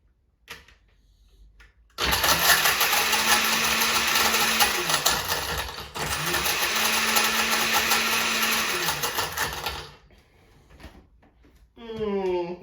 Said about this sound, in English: I've already put rum, ice, and Pina Colada mix in the blender. So let's put this on crush.